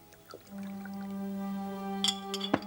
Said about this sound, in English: pours himself a glass of sherry